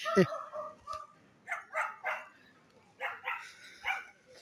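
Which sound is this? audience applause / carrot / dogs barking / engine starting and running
dogs barking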